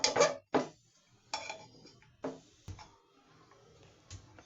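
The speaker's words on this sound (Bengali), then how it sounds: "আমি এটা দিয়ে নেড়ে কষিয়ে নেব" Meat being stirred in a cooking pot with a utensil, several sharp metallic clanks and scrapes spaced irregularly, close and fairly loud, with quiet gaps between strikes.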